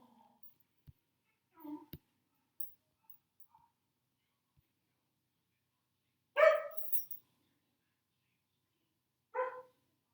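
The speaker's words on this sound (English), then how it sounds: "Sorry, my dog's barking." A few sharp barks from a dog some distance away, two short bursts separated by a few seconds of quiet, with faint scattered noises before them.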